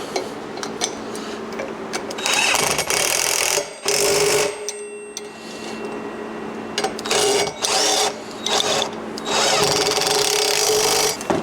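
A nut being tightened on the rear fender of an XLCH chopper, heard up close as intermittent bursts of metallic tool rattling and ratcheting separated by short quiet gaps.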